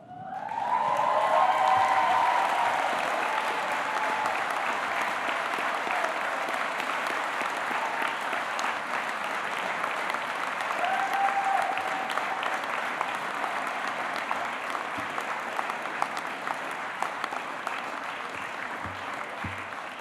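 Graduation ceremony audience in a Cambridge hall giving long, sustained applause, dense and even clapping with a few whistles early on, continuing steadily for the full stretch.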